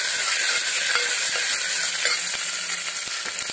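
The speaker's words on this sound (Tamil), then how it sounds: "வெங்காயம் கொஞ்சம் சீக்கிரம் வதங்குது" Steady sizzling and crackling of onions sautéing in a hot pan, with occasional stirring scrapes; close and continuous, no voices. The onions are cooking for a Tamil mixed-vegetable kootu kuzhambu.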